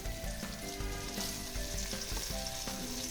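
Cut potatoes fry in hot oil with nigella seeds and green chilli, a close, busy sizzle broken by repeated scraping stirs of a spatula against the pan.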